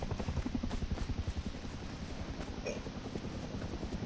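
A helicopter in the game Rust, a steady rapid rotor chop that is fairly loud and continuous throughout.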